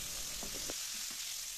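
Flour-battered squid fries in oil in an old, well-used non-stick wok, a steady hiss and sizzle with a few soft clinks of stirring early on.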